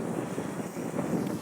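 Strong wind rushes steadily across an open roundabout while a drone flies overhead, a loud, unbroken roar of microphone buffeting with no voices.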